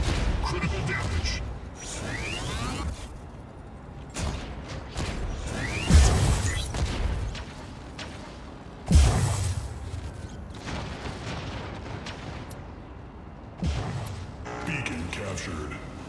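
Incoming weapon fire in Mech Arena: whooshes and mechanical clanks, with two heavy booming impacts a few seconds apart, under frequent game voice callouts.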